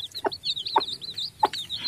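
Village chickens cluck in three short, close bursts while chirping chicks peep continuously in the background.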